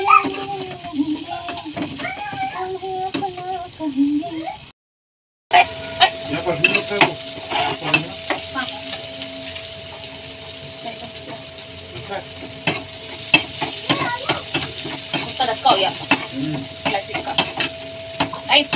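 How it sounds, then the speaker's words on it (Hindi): Vegetables with garlic and onion tempering in a hot pan, a steady sizzle and frying hiss with a spoon scraping and stirring, briefly cut out, with quiet speech early on. "इधर छोक रहे हैं सब्जी"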